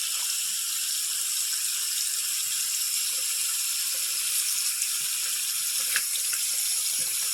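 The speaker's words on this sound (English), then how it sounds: "Get the water hot." Hot water runs from a tap into a bathroom sink, a steady close hiss of flowing water lasting throughout, with no talk.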